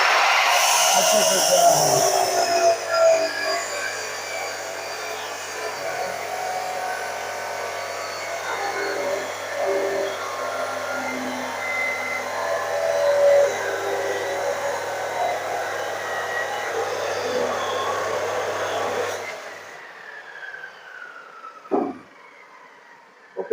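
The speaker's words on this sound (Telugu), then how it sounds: "ఆ పీస్ ని అబ్రాసివ్ కటింగ్ మిషన్ అనమాట అబ్రాసివ్ కటింగ్ మిషన్ లో మధ్యలో కట్ చేస్తాం" Abrasive cutting machine slicing through a solidified metal casting in a foundry workshop, a loud continuous high whine lasting about twenty seconds before it cuts off, followed by a few faint clanks.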